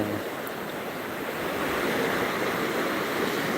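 Steady wash of waves breaking at an Indonesian beach near evening, a continuous broadband roar with slight swelling, wind-like and without voices.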